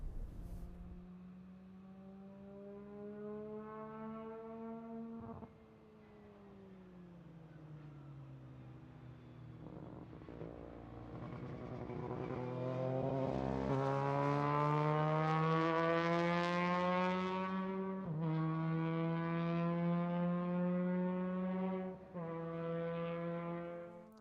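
A formula race car with a rotary engine drives past, its buzzing, harmonic-rich note dipping and then climbing as it revs up, peaking loud near the middle before shifting and easing off, heard alone without talk.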